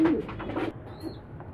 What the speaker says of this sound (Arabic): احسن حمام للتحضين، الحمام الزاجل